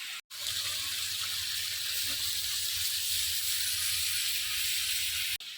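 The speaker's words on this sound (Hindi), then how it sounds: "मैंने अभी तड़का लगा दिया है" Tempering spices sizzle loudly in hot oil for a vegetable dish, a steady, bright crackling hiss that runs nearly unbroken, with only a brief cut near the start and end.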